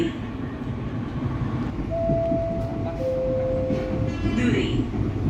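KRL commuter electric train running on the Manggarai line, heard from inside as a steady low rumble with rail noise, two brief horn tones sounding in the middle and faint voices underneath.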